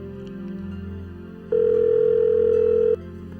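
Telephone ringing in an office at the PT Benang Mas call, a single steady electronic tone lasting about a second and a half over a low background hum.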